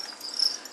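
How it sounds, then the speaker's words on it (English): Crickets kept indoors at an organic learning farm chirp in a steady high-pitched trill, close and fairly loud, with no talking. "which also includes my crickets, our crickets, the organic farm crickets."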